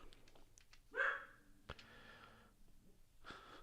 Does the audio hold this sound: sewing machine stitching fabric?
no